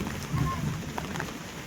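Steady rain falls with a broad, even hiss and scattered patters, with a faint murmur of voices in the background.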